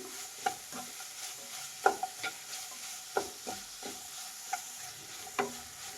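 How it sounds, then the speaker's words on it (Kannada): A spoon stirs salted capsicum and green pea bath in a pan, giving soft scraping strokes and sharp clicks against the metal at an irregular pace over a faint, steady sizzle, with no talking. "ಉಪ್ಪು ಹಾಕಿದ ಮೇಲೆ ಮಿಕ್ಸ್ ಮಾಡಿ"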